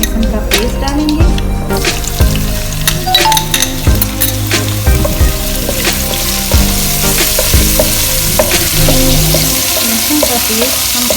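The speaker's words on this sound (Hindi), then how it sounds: "अब हम इसमें लहसुन का पेस्ट डालेंगे।" Loud, steady sizzling of garlic paste frying in hot oil, with clinks and scraping of a spoon stirring in the pan.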